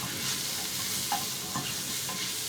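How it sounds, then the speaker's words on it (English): Oil, salt and black pepper stirred in a hot pan, a steady close sizzle with a few soft scrapes of the spoon, heard alone. "Give it a mix."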